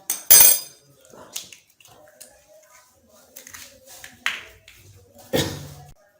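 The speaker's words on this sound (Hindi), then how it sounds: "अभी इसका आमलेट बनाने के लिए हम इनको तोड़ लेंगे एक बर्तन में।" Two eggs cracked against a vessel for an omelette, heard as a few sharp, close taps and clicks spread over several seconds with quiet gaps between them.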